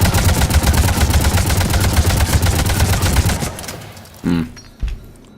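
The M8 Avenger assault rifle fires in Mass Effect 3 in a loud, sustained automatic burst for about three and a half seconds, then trails off into a couple of isolated impacts.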